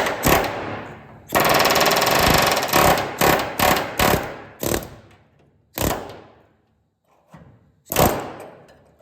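Loud bursts of rapid pneumatic air hammer pounding on rusted car body metal during A-pillar repair on a Plymouth Duster, a long sustained rattle followed by several shorter hammering bursts separated by pauses.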